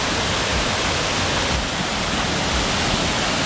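A small waterfall at Rock Island State Park gives a close, steady hiss of splashing water, broad and unbroken for the whole stretch with no voices.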